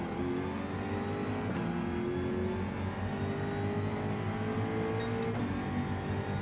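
A Jaguar race car engine in the video game Gran Turismo 7, revving in a sustained high drone that climbs in pitch through the gears, loud and steady with brief shift breaks.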